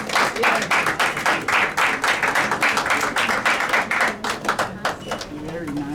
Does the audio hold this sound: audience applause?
yes